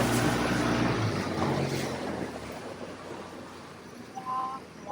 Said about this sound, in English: Look at that sexy boat.